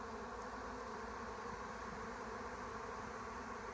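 A honeybee swarm settling in nearby trees gives off a steady, dense buzz of many wings. The hum is faint, unbroken and continuous throughout.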